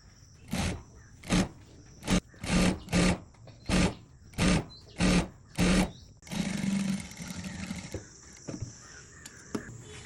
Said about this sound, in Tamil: அரை இஞ்சியில் வந்து நேராக தைக்கிறேன்